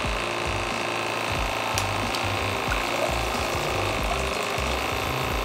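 A Geyser Systems portable shower drains water from its tank, its pump giving a steady buzzing hum with faint watery gurgles and small clicks, close and continuous with no voices.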